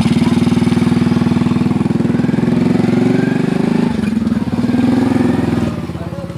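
A motorcycle engine runs loud and close throughout, holding a steady, throbbing note with slight shifts in pitch as it revs, with faint voices underneath.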